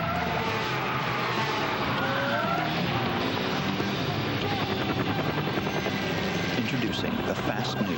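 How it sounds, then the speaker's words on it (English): A fast C230 sports sedan with a supercharged compressor engine roars steadily and loudly, its engine noise and tire skidding filling the whole stretch, with a voice speaking over it. "The fast new C230 sports sedan with a supercharged compressor engine."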